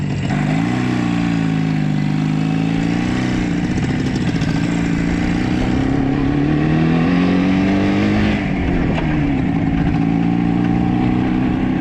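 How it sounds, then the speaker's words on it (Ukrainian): An IZh Jupiter 4 motorcycle engine running while riding, a loud close two-stroke drone that rises and falls in pitch as the throttle changes, steady throughout with no talking. "мотик досі заводиться, хоч і не з першого разу, але без подсоса"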